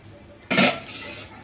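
A single spoon stroke scrapes through soybean curry in a cooking pot, one brief close clatter after a quiet moment, then fading.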